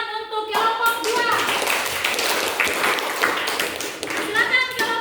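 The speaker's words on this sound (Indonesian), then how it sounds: "silakan berikan tepuk tangan untuk kelompok 2" A school class claps for a student group in a classroom lesson, with a burst of brisk, uneven hand claps and taps close by, amid children's voices and a few high-pitched shouts.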